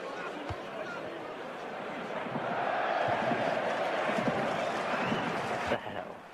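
Stadium crowd noise from a FIFA 14 football match, a steady broad roar that swells midway and holds, with in-game commentary speaking over it.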